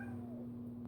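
A cat meows faintly, a short drawn-out cry over a steady low electrical hum in a quiet indoor room.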